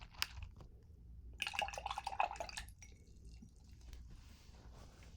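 An acrylic paintbrush is rinsed in a water cup, giving soft, close swishes, drips and light tapping against the container at low volume, with no voices.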